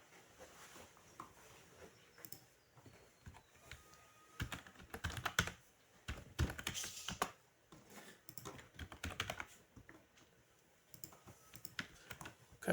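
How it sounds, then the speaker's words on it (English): Typing on a computer keyboard, a quiet, close run of irregular key clicks with busier bursts in the middle and faint pauses between, no speech. "So we have to type that in correctly."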